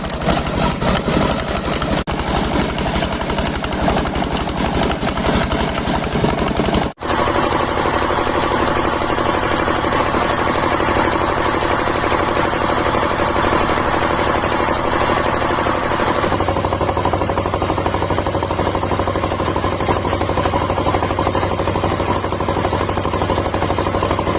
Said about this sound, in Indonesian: memasukkan tanah ke mesin cetak batu bata